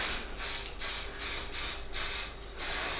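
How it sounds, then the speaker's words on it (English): Several short bursts of aerosol snow spray hiss close up onto a winter diorama in a steady rhythm, each lasting about a third of a second with brief pauses between. "I'll give it a bit of a spray"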